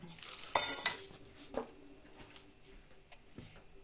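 Batter with baking powder being mixed in a bowl, with a few clinks and scrapes of a utensil at the start, then softer stirring sounds at low level.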